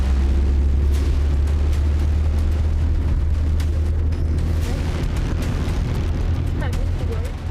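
Missile strikes hitting Tehran, heard as a sustained loud, deep rumbling roar of explosions with booming low-end energy throughout, dense and close, gradually easing near the end.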